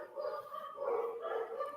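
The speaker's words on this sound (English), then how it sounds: "Whose dogs are that?" Dogs barking and yapping in a steady, fairly close run of overlapping barks that lasts the whole stretch.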